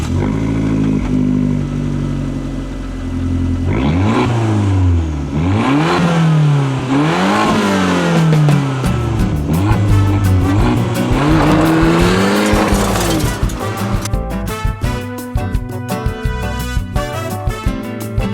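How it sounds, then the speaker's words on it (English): A Fiat 500 Abarth's exhaust roars loudly as the engine revs up and down in repeated sweeping pulls, ending in a rapid crackle of pops and bangs from the tailpipe. "what people mostly remember about these and what makes them so much fun is the exhaust."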